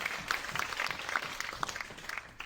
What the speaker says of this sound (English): Clap if you've ever been there